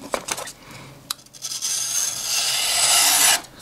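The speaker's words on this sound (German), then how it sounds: "machen wir mal noch einen kleinen Schneidtest, um zu schauen, ob es wirklich was bringt" A Real Steel Phasma folding knife in a cutting test, first a few short scratchy strokes, then a long sustained hissing, rasping cut through material, close and fairly loud before it stops abruptly.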